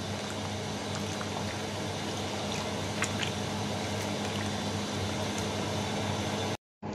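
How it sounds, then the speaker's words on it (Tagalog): Chicken sopas soup boiling in a pot on the stove: a steady, fairly quiet bubbling hiss with faint pops throughout, heard alone before a brief dropout at the end. "kumukulo na"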